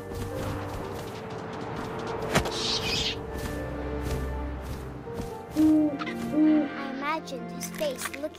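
Owl hooting in the video game What Remains of Edith Finch, two low hoots standing out near the end over a busy backdrop of game ambience and music.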